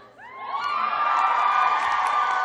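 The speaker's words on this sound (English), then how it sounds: "I clapped myself at the end there" A panel audience at a Dream & Friends SMP reunion erupts in loud cheering, whoops and shouts, swelling quickly after a brief pause and holding as a dense, sustained crowd roar.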